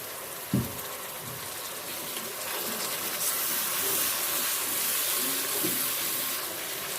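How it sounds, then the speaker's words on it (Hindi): A thud followed by a steady, hissing rush of water poured into frying spices in a hot pan, continuing evenly for several seconds with no voices. "थोड़ा सा हम पानी डालेंगे ताकि हमारे मसाले जले ना।"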